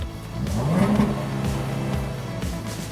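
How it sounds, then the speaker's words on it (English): A 2017 Jaguar XE S V6 engine revs up, rising in pitch and then holding a steady loud drone, close by with no talking. "You want me to rev it? And I will."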